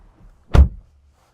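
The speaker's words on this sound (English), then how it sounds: "Closing the door." A single solid thud of a Hyundai Ioniq 6 door shutting nearby, short and low, surrounded by quiet.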